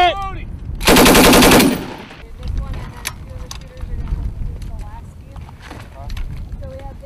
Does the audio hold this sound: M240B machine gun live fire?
yes